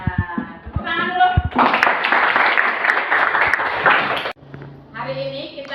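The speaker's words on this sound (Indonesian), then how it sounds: "Ya, tepuk tangan dulu." A primary school class clapping hands together in a classroom, a burst of brisk rhythmic clapping that follows a teacher's voice and gives way to her speaking again afterward.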